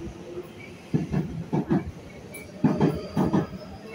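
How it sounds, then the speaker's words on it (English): An MTR East Rail line train rumbles with rhythmic clacking bursts of wheels over rail joints, steady hiss beneath, as it pulls away nearby from Kowloon Tong station. "the train is about to leave"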